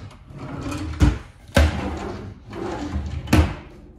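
Kitchen drawers in a tiny house slide and bump shut three times, each close thud sharp and loud, with softer sliding and rattling between them.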